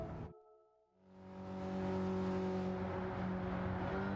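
A car engine in a racing video game cuts out briefly, then revs up and holds a strong, steady accelerating drone with clear tonal harmonics, close and continuous with no speech.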